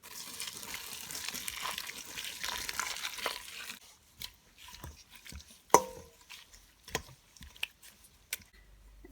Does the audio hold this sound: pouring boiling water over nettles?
yes